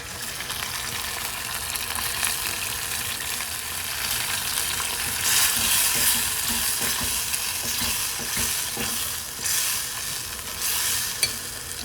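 Buffalo wing sauce with brown sugar bubbling in a pot, a continuous close sizzling hiss with occasional stirring scrapes and no voices.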